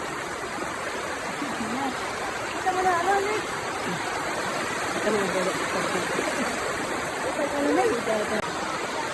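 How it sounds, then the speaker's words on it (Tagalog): A river in Palawan flows in a steady, full rush of water that fills the whole stretch without a break, with a few faint voices barely rising above it. "Ito yung ilog nila"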